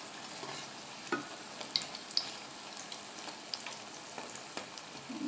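Spinach frying over medium heat in a pan for chickpea pakora, a soft steady sizzle with occasional faint pops and crackles, fairly quiet throughout.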